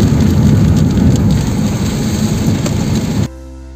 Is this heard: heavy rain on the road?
yes